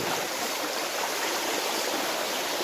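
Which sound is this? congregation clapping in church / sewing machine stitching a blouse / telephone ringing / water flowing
water flowing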